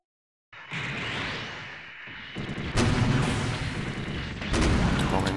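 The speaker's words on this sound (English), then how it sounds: "Long-range beam cannon already, I can tell that's nice." Long-range beam cannon firing in the SD Gundam Online game, heavy booming blasts that swell into a dense, sustained roar with a second surge near the end, loud and close.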